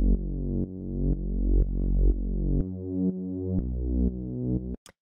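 Synth bass line for melodic techno plays alone: a run of sustained, harmonically rich notes changing pitch every half second or so, following a chord progression, with pumping swells and a short click at the end.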